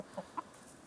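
Chickens in a snowy homestead barnyard give two quick faint clucks, close together and quiet, with no talking.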